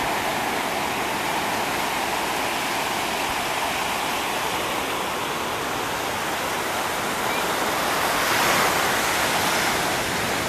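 Ocean surf at Newport Beach, California, a continuous broad roar of breaking waves close by, loud and steady with a slight swell near the end, no voices.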